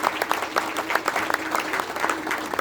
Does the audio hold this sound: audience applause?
yes